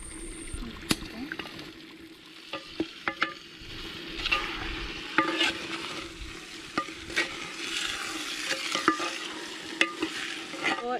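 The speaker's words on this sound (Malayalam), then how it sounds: "ഈ മസാല പുരട്ടി വെച്ചിരിക്കുന്ന ചിക്കൻ നമുക്ക് ഇതിലോട്ട് ചേർത്ത് കൊടുക്കാം." Masala-marinated chicken added to onions and tomatoes and frying in a clay pot, a steady close sizzle broken by repeated sharp knocks and scrapes of a spoon stirring against the pot.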